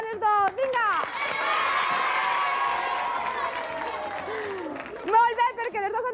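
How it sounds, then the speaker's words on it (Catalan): Children and an audience at a school quiz contest on a 1990 television show break into a sustained burst of loud applause and cheering for two contestants, lasting several seconds, with voices speaking before and after. "Un aplaudiment ben fort per a les dos."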